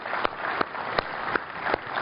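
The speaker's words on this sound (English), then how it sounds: "Let's give Mark a quick round of applause" Sparse audience applause at a soil and sustainability summit panel, a handful of separate claps spaced evenly, moderately close and fairly quiet, with no talking over it.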